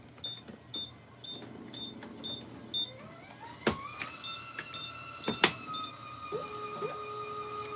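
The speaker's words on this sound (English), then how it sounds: "we're printing a label" A label printer printing a shipping label, with a series of beeps followed by mechanical whirring, sharp clicks and rising motor tones, close and clear with no talking.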